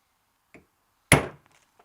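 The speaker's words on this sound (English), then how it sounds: "took a hammer, whacked it once" A single sharp metallic strike of a hammer on a screwdriver rings out, loud and close, preceded by a faint tap and followed by a brief decaying ring.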